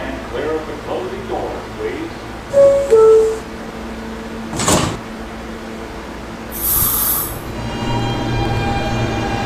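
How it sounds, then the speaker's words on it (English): A Kawasaki R160 Siemens E subway train rumbles along with steady car noise, wheel squeals, and a few chimes, while an automated announcement voice speaks over it. "This is a Catlin-bound E train."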